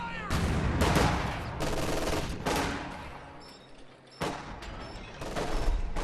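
Heavy automatic gunfire from machine guns and rifles in the Company of Heroes 2 video game, loud repeated bursts and sustained fusillades with brief lulls between volleys.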